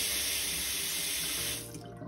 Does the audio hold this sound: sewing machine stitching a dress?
no